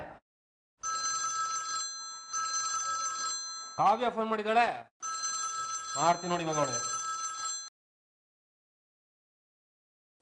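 A telephone bell rings in repeated bursts, close and clear, with someone speaking briefly between the rings before it stops.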